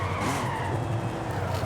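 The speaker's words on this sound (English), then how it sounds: "locking up the brakes with ABS on" In the video game Forza Horizon 5, a car's tires skid continuously with a loud, grinding screech under hard braking with ABS on, over engine noise.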